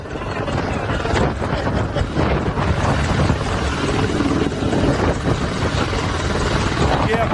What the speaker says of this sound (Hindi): ये आप देख रहे हैं, भारत पहुंचे ये अपाचे हेलीकॉप्टर।